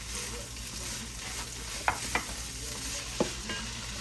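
Chicken stir-fried in a hot pan with a plastic spatula for General Tso's chicken and fried rice, with a constant loud sizzle and a few soft scrapes and taps of the spatula.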